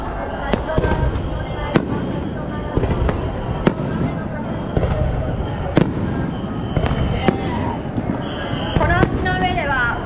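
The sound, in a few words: fireworks at the Sumida River fireworks festival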